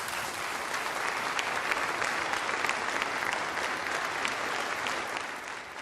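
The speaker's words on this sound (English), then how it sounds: "Now you can see the governor getting a standing ovation in response to those comments" Sustained applause from a standing crowd giving the governor an ovation, dense and steady clapping throughout at an even, fairly loud level.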